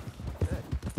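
Horse hooves clip-clop steadily in Red Dead Redemption 2, a quick regular rhythm of close, dull thuds, roughly six beats in a second.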